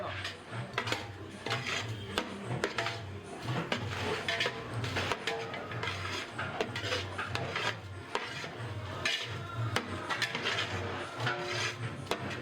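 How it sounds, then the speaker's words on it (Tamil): Coconut rice being stirred in a cooking pot, a close, continuous rhythm of scraping and rubbing from a utensil against the pot with soft clinks, quiet and without talk. "இப்போ ரைஸை கிண்ட போகிறோம்."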